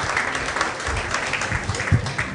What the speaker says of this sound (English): Please let's encourage her with a clap.